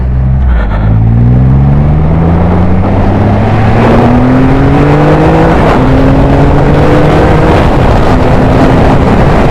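A Triumph Rocket 3 GT or Storm motorcycle on the road, its engine note falling and rising through gears under engine braking and rear braking, loud and close, with heavy wind buffeting throughout.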